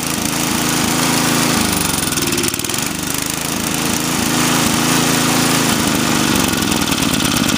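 A Toro 521 snowblower's small engine runs steadily at idle nearby, a loud, continuous mechanical chugging with a slight dip in pitch partway through and no voices.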